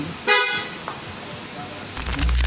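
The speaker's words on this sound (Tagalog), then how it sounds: "ay may busina naman, di ba?" A car horn gives one short, sharp honk near the start, followed by the rumble of a passing vehicle and road noise.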